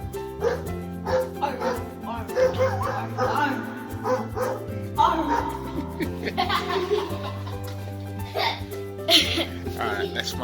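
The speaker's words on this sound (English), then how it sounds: "get the dog barking" Dog barking sound effect played from a small speaker, with yips and barks recurring through the clip while people talk and laugh over it, steady hum underneath.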